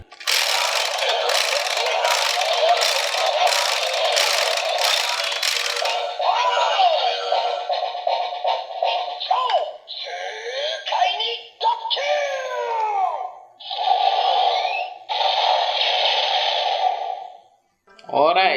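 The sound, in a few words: DX Zenkaiju Gear toy attack sound effects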